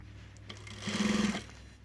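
A sewing machine stitches a front zipper onto a fleece vest, running in one short, even burst of rapid stitching that starts and stops within about half a second in a quiet room.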